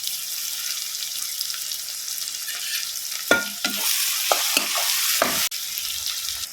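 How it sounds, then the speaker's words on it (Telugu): Cleaned bommidi fish go into a hot pan and set off a steady bright sizzle, with a few sharp crackles and splutters partway through, heard alone without talk. "మనం ముందుగానే శుభ్రపరచుకున్న బొమ్మిడి చేపలు కడిగిని వేసేస్తున్నామండి"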